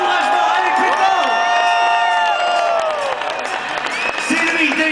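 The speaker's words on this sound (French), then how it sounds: "On applaudit tout le monde." A festival crowd claps and cheers steadily while a daredevil, David the Bullet Smith, waits on a cannon before a high jump. The applause is loud and continuous, with whoops rising over it and talk running underneath.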